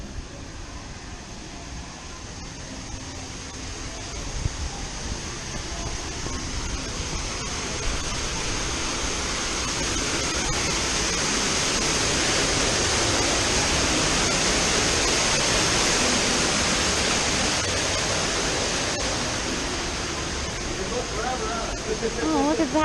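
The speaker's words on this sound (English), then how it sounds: "I think I hear some water over here." Steady rushing water, like a stream or small waterfall, fills the scene continuously at Disney's Animal Kingdom and grows slightly louder midway, with no voices.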